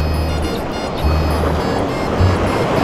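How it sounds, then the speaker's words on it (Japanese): Ocean swell surging against a rocky shore while fishing for squid with egi lures, a steady loud wash of surf with heavier surges building every second or so. "やばい、来た来た来た、うねりが来た。"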